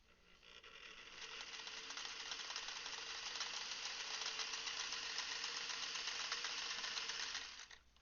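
Sewing machine stitching fabric for a quilt block, a fast steady mechanical whir with rapid needle clatter that ramps up, runs continuously for about seven seconds at moderate loudness, then stops abruptly.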